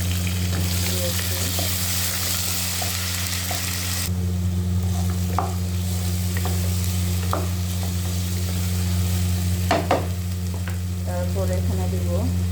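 Garlic and ginger paste frying in a pan, a steady sizzling hiss over a constant low electrical hum, broken by scattered clicks and scraping stirs, with no one speaking.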